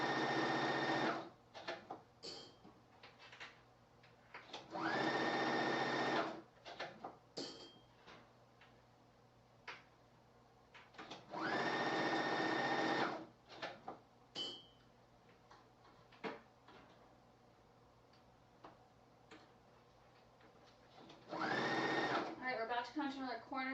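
A sewing machine stitches a one-piece shawl collar on a dress, running in several sustained bursts separated by pauses, with clicks from raising and lowering the presser foot and a voice talking in between.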